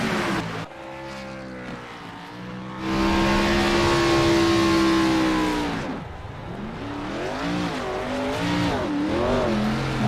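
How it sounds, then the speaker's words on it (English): A stock race car in a racing video game roars through burnouts at the start/finish line, the engine revving hard in long sustained pulls with rising and falling pitch, loud and alone. "doing the burnouts here at the start finish line there"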